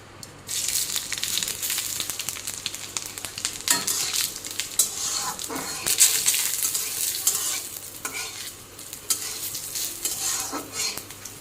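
Panch phoron spices sizzle in hot oil for dal, a loud crackling fry close by, with repeated scraping and clinking of a spoon stirring in the pan.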